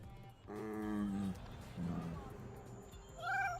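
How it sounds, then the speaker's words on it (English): A cat meows in a few drawn-out, tonal cries at moderate distance, with a couple of separate calls spaced across a few seconds. "Meow, meow, meow, meow."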